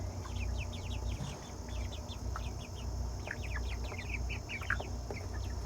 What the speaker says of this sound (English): This guy might be a rooster.